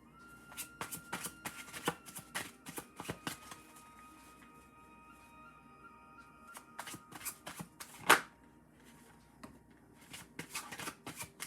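A deck of oracle cards being shuffled in a run of quick, papery riffles and flicks, with one sharper snap near the end, close and fairly quiet, with no talking.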